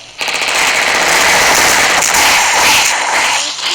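Rapid automatic gunfire from a video game weapon, a dense continuous burst that starts abruptly and stays loud and close for several seconds.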